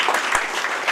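A brief burst of applause from guests at a BSNL retirement party, dense clapping heard close and steady for under a second.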